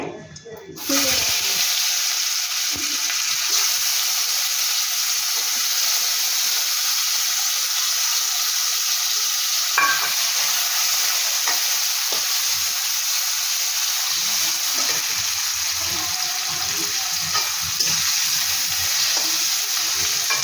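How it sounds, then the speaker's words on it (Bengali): Potato pieces frying in hot oil in a pan, a loud, steady sizzle that runs without a break, with faint stirring knocks now and then and no voices. "আলুটা ভাজতে দিলাম"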